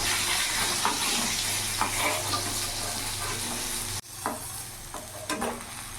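Rohu fish pieces fry in hot oil until reddened, giving a steady, close sizzle with occasional scraping and clinking of a spatula as they are turned and lifted out.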